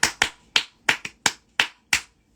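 About eight sharp, separate hand claps ring out close and clear at a fairly even pace, each dying away quickly into quiet, with no voices.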